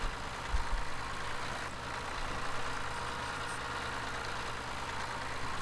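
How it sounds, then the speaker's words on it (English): A vehicle engine in Farming Simulator 15 idles and hums steadily, a low continuous drone at moderate level with no clear changes in speed throughout. "there's another vehicle coming"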